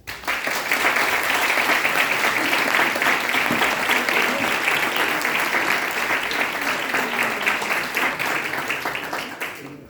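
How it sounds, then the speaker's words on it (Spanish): Audience applause at a book presentation on the history of Los Hinojosos, a dense, steady wash of many hands clapping that fills the room at full strength for the whole stretch before easing slightly toward the end. "Muchas gracias. Un aplauso."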